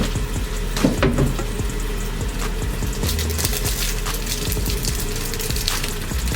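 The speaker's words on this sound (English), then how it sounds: "So we're just gonna get this soap a little wet." Water runs steadily from a tap over a bar of Palmer's Skin Success soap, a continuous splashing flow with small knocks and handling noises.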